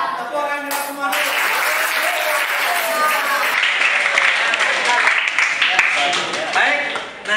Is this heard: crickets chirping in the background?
no